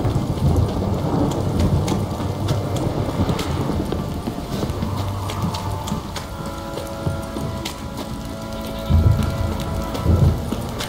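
Steady rain and rolling thunder fill an outdoor scene in the video game The Witcher 3, a continuous downpour hiss with low rumbles swelling near the end and no voices.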